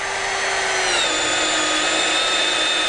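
A power drill fitted with a Wood Beaver bit boring through timber, a steady, loud, close whine that holds constant for the whole stretch, its pitch dipping slightly partway through as the bit bites, with no talking.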